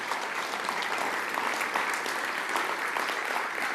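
An audience at a theatre season launch night applauds a musician, continuous dense clapping filling the room at a steady, fairly loud level with no speech over it.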